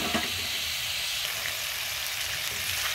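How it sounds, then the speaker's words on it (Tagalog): Garlic and onions sauté in rendered pork fat for Bicol Express, a steady, close, dense sizzle and crackle that holds without pause throughout, with no voices. "So, gisa na natin yung ating bawang."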